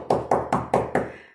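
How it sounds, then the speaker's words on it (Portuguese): A cartoon wolf knocks on the door of a little pig's wooden house, giving five quick, evenly spaced hollow wooden knocks, close and loud, with the last one ringing out briefly. "Lobo, de novo, bateu na porta."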